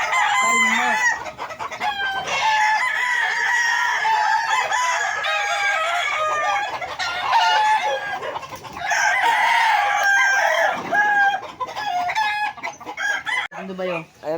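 Chickens cluck and a rooster crows repeatedly at close range around a backyard flock, busy and continuous with a brief flurry near the end.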